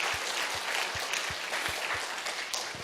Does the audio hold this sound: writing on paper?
no